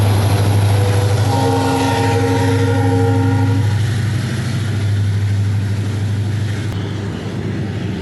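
Coal-loaded freight train in a coal belt area at Ukhra station, rumbling loudly and steadily throughout while a horn blasts for a couple of seconds early on, with no talk over it.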